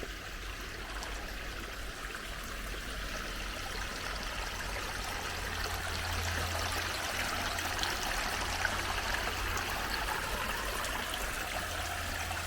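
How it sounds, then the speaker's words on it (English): Creek running beside a wooded walking path, a steady, gentle babble of flowing water heard alone and at moderate distance. "We call it the stream or the creek or whatever you want to call it."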